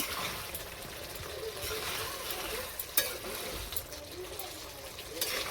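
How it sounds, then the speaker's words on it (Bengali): Cauliflower fries with spices in a pan and gets stirred, a soft sizzle with scraping clinks and occasional sharp knocks of the spoon, fairly quiet throughout. "মশলাটা ভাজা হয়ে গেছে, কপিটা দিয়ে দিচ্ছি।"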